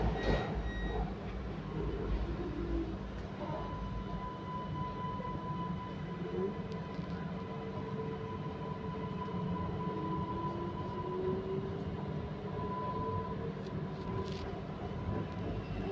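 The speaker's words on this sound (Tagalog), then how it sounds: "sumasalubong na train, MRT train." An MRT metro train on the line between Kota Damansara and Kwasa Damansara rumbles past steadily with a faint whine from its motors, mid-distance, and no one speaks.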